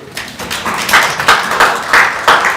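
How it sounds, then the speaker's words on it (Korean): A small audience at a policy forum in a National Assembly seminar room claps for a professor after his talk. The claps come close and fairly loud, in a loose rhythm of separate slaps with some taps and thuds. "김찬 교수님께 박수"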